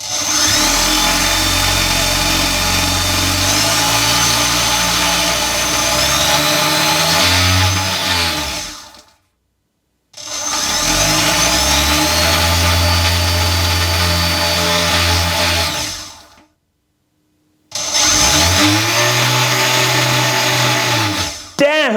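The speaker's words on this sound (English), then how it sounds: "Those new weapons spin up ridiculously fast." New, faster weapons on a vertical spinner melty combat robot spinning up in three loud bursts, each whine climbing in pitch then winding down, separated by short silences.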